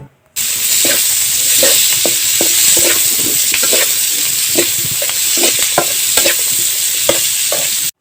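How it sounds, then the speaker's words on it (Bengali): Chopped onion, green chili and garlic stir-fried in a pan, loud continuous sizzling with repeated spatula scrapes and stirring strokes at an irregular rhythm, close and alone. "এখন আমি পেঁয়াজ, মরিচ, রসুনগুলো কিছুক্ষণ নেড়ে নেব।"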